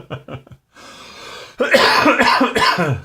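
Several sharp coughs, close and loud, come first in a quick pair, then after a brief pause a longer burst of harsh, raspy coughing with some throat clearing.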